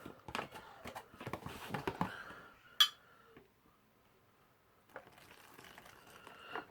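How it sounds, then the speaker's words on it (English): An MRE meal is stirred with its plastic spoon in a pouch: close, quiet scraping, tapping and crinkling in irregular bursts, then a pause before a few more faint scrapes. "We'll get our MRE spoon that came with it, and we'll mix that around."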